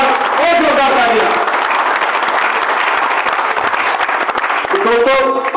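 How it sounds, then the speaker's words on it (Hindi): Loud, sustained clapping from the audience at a health awareness program, a dense continuous patter lasting several seconds with voices audible at the start and end. "तो देखो दोस्तों, मैं चाहता हूं जी इसके लिए एक बार और जोरदार तालियां"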